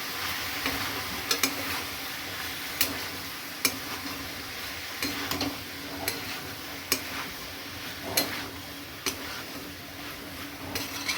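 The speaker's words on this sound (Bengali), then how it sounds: "এবার আমি পোস্তটা দিয়ে দিলাম, পোস্ত বেটে রেখেছিলাম দিয়ে একটু ভালো করে কষিয়ে নেব।" Ground poppy seed paste frying and being stirred in a pan, a steady soft sizzle broken by regular sharp scrapes and taps of the spoon, close up, with no voices.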